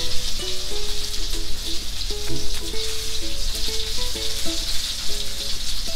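Steady, loud sizzling and spattering of chicken frying in a hot pan, crackling continuously with no voices.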